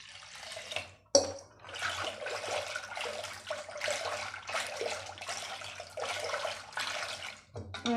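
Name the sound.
pouring water into a pot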